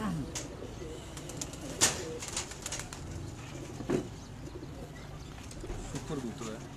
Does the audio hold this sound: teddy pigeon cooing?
yes